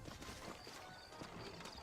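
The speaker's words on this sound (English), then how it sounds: "and get on a horse" Horse hooves clip-clop in a steady rhythm in the Western video game Red Dead Redemption, a soft, quick patter under faint game ambience.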